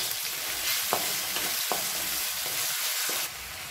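Chopped tomatoes with salt sizzle steadily in a hot pan for a baby jackfruit kurma, loud and close, while a spoon stirs them in several short scraping strokes; no one speaks.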